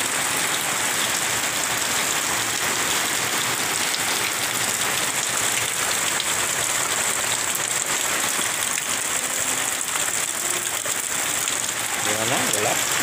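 Heavy rain pours down on the village of Mentawak, a steady, dense downpour drumming on surfaces throughout, with a brief voice near the end.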